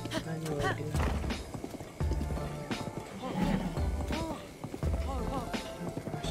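Horse hooves clip-clopping at a run in Zelda: Breath of the Wild, a quick uneven gallop heard close with whinnies and game music, while a player talks over the action.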